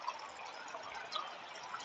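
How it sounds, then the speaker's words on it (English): Water overflowing while a container fills at home, a soft steady splashing and trickling rush, fairly faint and continuous with no talk. "Oh shoot, my water overflowing."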